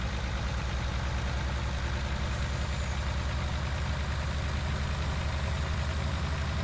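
A MAN truck with a 640 horsepower engine, driving loaded in Farming Simulator 19, gives a steady loud low engine drone with a throbbing rumble that holds unbroken throughout.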